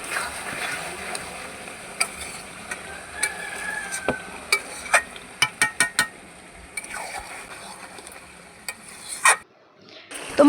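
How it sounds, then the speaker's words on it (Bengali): Chicken meat being pressed and stir-fried in a pan for chicken pulao, with a steady low sizzle broken by a series of sharp spatula scrapes and clinks against the metal, loud and close, no voices. "তো দেখুন মাংসটা চাপা দিয়ে দিয়ে কষিয়ে নিচ্ছি"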